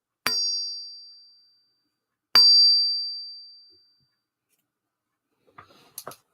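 Two bright metallic rings from a struck knife blade, each struck sharply and left to fade slowly, followed by a few faint small clicks.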